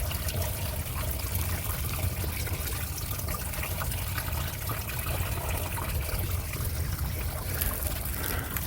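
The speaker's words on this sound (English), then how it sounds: "the sound of water trickling over a drop that makes that little interesting, pleasant noise" Steady broadband rush of running water trickling over a small drop, continuous and fairly close, with a soft trickling texture and no voices.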